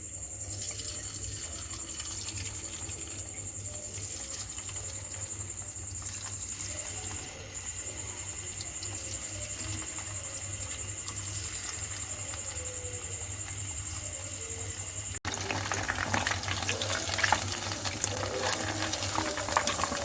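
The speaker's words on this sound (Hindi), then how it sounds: "ऑयल गर्म हो चुका है। चिकन टिक्का बोटी को मीडियम आंच पर फ्राई करेंगे।" Chicken tikka boti pieces frying in hot oil over medium heat give a steady, close sizzle that runs the whole time and turns louder and crisper partway through, with no talking.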